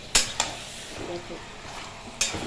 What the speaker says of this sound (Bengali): মাংসটা আমি কষাতে দিলাম